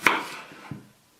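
A knife cuts through a home-grown sweet Snowball white onion on a board, a crisp close slice followed by a softer second chop, alone and quiet.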